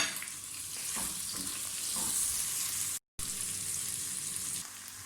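Onion sizzles in about a cup of hot oil with ginger-garlic paste, a close, continuous frying hiss with light stirring, cut by a brief silent gap near the end.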